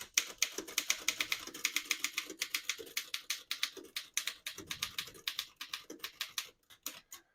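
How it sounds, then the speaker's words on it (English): A 1911 Underwood No. 5 antique desktop typewriter being typed on, a fast steady run of crisp, close key strikes with brief pauses between bursts and no talking. "I'll type a sentence on this next line."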